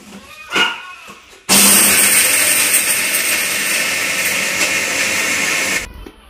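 Food processor grinding ingredients for dry fruit laddoo, a loud whirring motor roar that starts abruptly after a brief sound, runs steadily for about four seconds, then cuts off.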